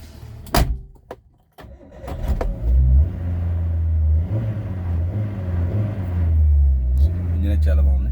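A 2009 Hyundai Santro Xing with about 134,000 km on it idles steadily, its low engine rumble running continuously after a door thump, with someone talking over it.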